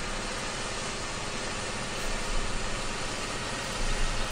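A Buhrer 6135A tractor engine in Farming Simulator 2015 drones steadily at close range, a dense, even mechanical roar with slight swells, alone with no talk.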